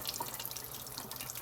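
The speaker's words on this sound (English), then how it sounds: "I'm going to turn the water off" Water runs steadily from a kitchen tap into a sink while eggs are peeled, a continuous close hiss and splash with a few drip-like accents and no talking.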